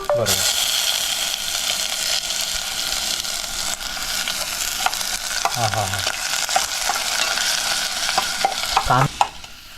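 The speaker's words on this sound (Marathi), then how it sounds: "इकडे कांद्याची फोडणी पडली आहे मस्तपैकी" Chopped onion crackles and sizzles steadily in hot tempering oil with curry leaves for a Konkan mango and shrimp curry, a dense close frying hiss broken by a few sharp spatula scrapes and clatters.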